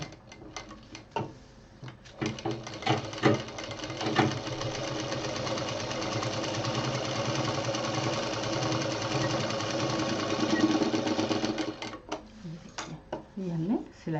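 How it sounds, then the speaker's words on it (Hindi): A sewing machine stitches across a quilt with a fast, even mechanical whir that runs steadily for several seconds. Brief bursts of speech and handling noise come at the start and end. "जो हमने सिलाई की थी उसी पर ये मशीन हमने चला दी है।"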